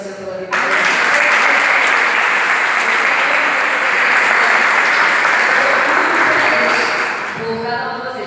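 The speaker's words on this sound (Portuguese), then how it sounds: "Você pode aplaudir o Senhor pela vida?" An audience at a church event bursts into loud, sustained applause, dense clapping that starts abruptly and fades near the end, with a voice faintly heard around it.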